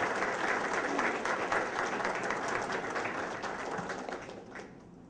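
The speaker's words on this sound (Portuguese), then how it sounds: "uma salva de palmas para o trabalho deles" Steady, dense applause fills a seminar hall on broadband internet quality, holding evenly before thinning out and fading near the end.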